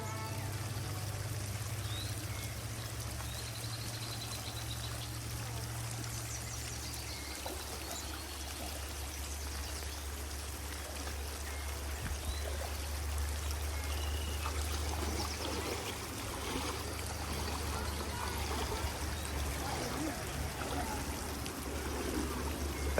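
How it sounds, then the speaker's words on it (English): River water flows steadily and close by as hikers on a wilderness navigation course wade across, a continuous gurgling wash with a low rumble and occasional splashes, no talking. "We need to cross that river one more time."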